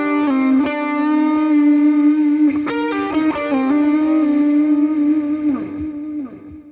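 Distorted electric guitar plays a solo phrase, using slides, hammer-ons and a bend; sustained, singing notes shift pitch smoothly over about seven seconds, loud and close with no talking.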